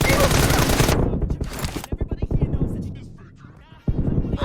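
Rapid gunfire in a shooting video game: a dense, loud burst of automatic fire, then a string of sharp, separate shots, a brief lull, and another burst at the end.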